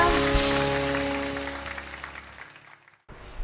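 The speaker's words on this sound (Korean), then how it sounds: "박수 올려드리겠습니다." A church congregation at a Wednesday evening service gives applause that fades out under lingering sustained tones, then drops to near silence before a quiet room sound returns.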